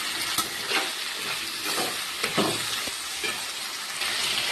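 Jackfruit seeds, onion, garlic paste and spices are stirred as they fry in a pan, a continuous sizzle broken by scraping spoon strokes and occasional clicks against the pan.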